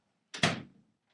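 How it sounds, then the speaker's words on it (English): A door is pushed shut with a single soft thud and brief rattle, heard at a slight distance in a quiet home, then silence. "Go shut the door."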